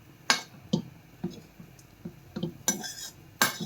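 A spoon scrapes and taps against a pan as lentil paste for laddoos is roasted, giving a series of sharp metallic clinks and scrapes at irregular intervals, close and clear with no talk.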